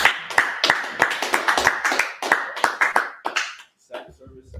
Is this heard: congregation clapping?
yes